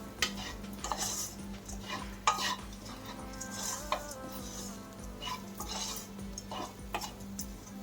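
Carrot fry is stirred in a pan after salt goes in, with scattered light scrapes and clinks of a spoon against the pan over a faint sizzle, quiet and close.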